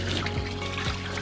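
Water trickles at a trail water source, a close, steady pouring stream with a soft, continuous liquid gurgle throughout the short moment.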